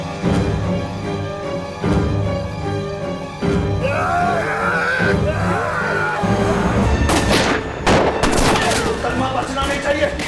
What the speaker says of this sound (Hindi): बचना नहीं चाहिए। फायरिंग कर, फायरिंग कर।